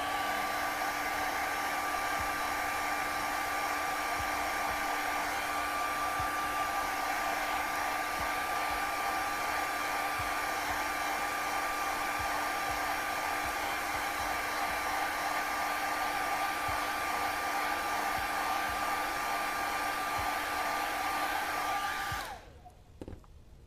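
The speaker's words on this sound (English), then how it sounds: "Obviously, it really helps to have a hairdryer to help you." A hair dryer blows steadily with a constant whirring whine, running loud and unbroken before switching off near the end.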